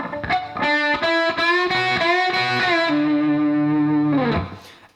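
Distorted electric guitar lick played through effects, a run of picked notes with a bend, a long sustained tone and a pull-off down a whole step, loud and alone without talk.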